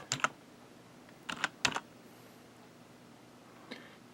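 Password typed on a computer keyboard: a few quick bursts of key clicks, two short clusters followed by a lone tap near the end, close and crisp over a quiet room.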